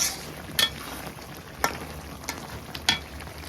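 Fish stirred into a simmering curry in a pan, a steady low bubbling hiss broken by a few sharp spoon scrapes and clinks.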